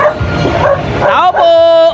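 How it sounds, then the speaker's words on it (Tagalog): Dogs bark and yip loudly nearby, followed by a sustained whining howl, with a person speaking underneath. "puno ng aso no?"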